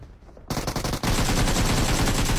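Automatic gunfire in the battle royale game PUBG, rapid loud bursts of shots with a short pause, then a dense unbroken volley close up.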